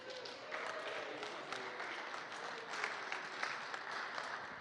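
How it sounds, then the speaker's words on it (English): An audience applauds visiting Turner, West Platte and Leavenworth high school students at a gathering: steady, fairly faint clapping with scattered louder claps and a few voices under it. "Give them a round of applause."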